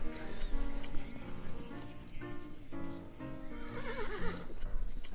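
A horse in a Wild West setting whinnies in long, wavering neighs over rhythmic clip-clopping hooves, fairly loud and close, with some background noise.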